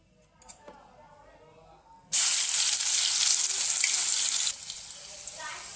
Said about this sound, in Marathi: या तेलामध्ये आपण आलं लसूण हिरवी मिरचीची पेस्ट घालून घेऊ